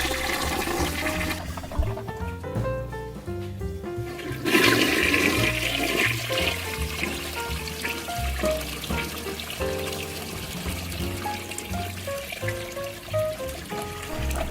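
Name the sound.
toilet flushing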